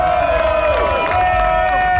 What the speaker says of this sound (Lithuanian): Jūsų plojimai.